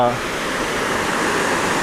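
Huai Mae Khamin waterfall, a seven-tiered cascade, roars after a storm as a dense, steady rush of falling water. A voice is heard briefly at the very start before the constant wash continues alone.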